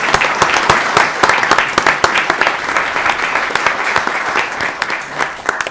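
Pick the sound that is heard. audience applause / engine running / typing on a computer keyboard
audience applause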